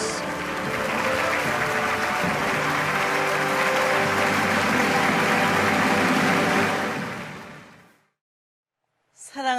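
A large audience at a Korean War 70th anniversary commemoration applauds warmly to welcome Dr. Hakja Moon, a loud, steady wash of clapping that fades out near the end before a voice begins.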